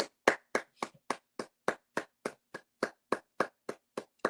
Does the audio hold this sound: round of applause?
yes